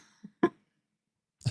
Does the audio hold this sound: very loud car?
no